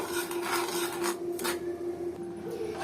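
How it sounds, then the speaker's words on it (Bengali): Sugar being stirred slowly in a pan over low heat as it melts into caramel, a close, steady scraping and rasping of the utensil against the pan with no talking. "এটা আস্তে আস্তে নাড়তে হবে চিনিটা গলার জন্য অপেক্ষা করতে হবে"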